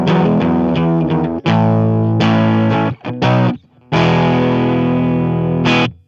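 Electric guitar on the bridge pickup run through stock Ableton amp and effects plugins, playing distorted chords and riffs loud and close, with short phrases broken by brief pauses and sustained ringing notes.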